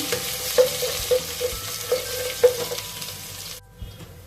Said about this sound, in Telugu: పేస్ట్ పచ్చి వాసన పోయే వరకు ఫ్రై చేసుకుందాం